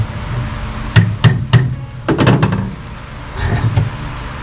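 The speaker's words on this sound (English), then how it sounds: "The air chisel was way more effective at taking up the blue vinyl flooring than the manual chisel." An air chisel chips up old blue vinyl flooring inside a converted school bus, loud sharp bursts of hammering in short clusters with brief pauses between.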